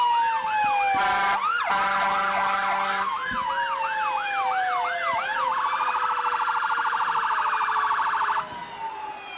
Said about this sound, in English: Looks like we have a couple of engines from Peabody.